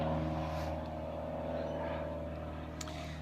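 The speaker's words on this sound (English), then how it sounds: "let just a plane pass by" An airplane passing overhead produces a steady, droning engine rumble with layered low tones that holds throughout and fades only slightly, heard alone without talk.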